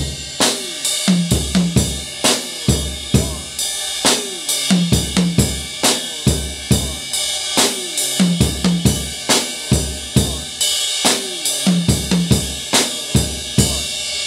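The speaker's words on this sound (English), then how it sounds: "It's going to crash, and the beat is going to play with kind of like the ride cymbal and the tom" A drum kit plays a steady beat that alternates between the ride cymbal and a tom, with crash accents, loud and close, with no talk.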